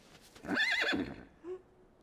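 A horse in a stable gives one loud, clear whinny lasting about half a second, followed by a faint short snort, with no talking.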